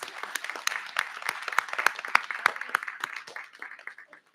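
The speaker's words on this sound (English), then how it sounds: "I think that deserves a huge round of applause." Applause from an audience at a board of education meeting, a steady patter of many hands clapping at moderate volume with a few sharper claps standing out, tapering slightly toward the end.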